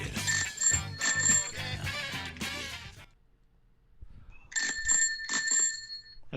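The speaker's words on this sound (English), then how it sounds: "Is that your bell on your bike?" A bicycle bell rings in quick repeated bursts, bright and near, then falls silent for about a second before another run of rings starts up; no one speaks.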